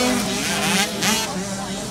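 Race cars roar at a Saturday night pro purse race at Little Oakie, a loud, continuous engine drone with passing surges and a voice under the noise.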